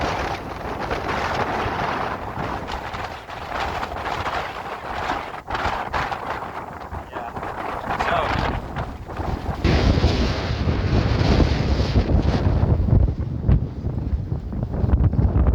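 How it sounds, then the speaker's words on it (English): Strong wind roars and buffets the microphone in loud, continuous gusts that grow even harsher toward the end. "My hat is about to fly off here. It's so windy."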